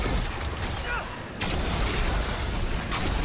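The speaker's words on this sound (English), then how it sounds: "We're taking fire!" Incoming gunfire in Dragon Age: The Veilguard: a dense, continuous roar of battle noise with a sharp burst partway through and scattered cracks, loud and steady throughout.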